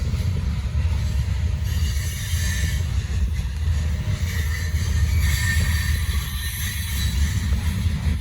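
A heavy Norfolk Southern freight train of over 150 cars rumbles past slowly at close range, with a deep continuous roll and occasional faint high wheel squeals.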